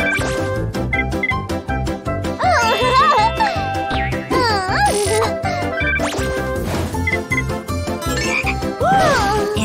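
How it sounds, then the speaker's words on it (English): Cartoon frog croaks in a kids' animated adventure about crossing a cliff, loud bubbly croaks and boings over busy, bright music with crashes and jingles, no speech. "It's a frog."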